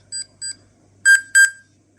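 A radiation dosimeter Geiger counter beeps sharply in pairs: two shorter, softer beeps, then two longer, louder ones, and another begins just as the clip ends.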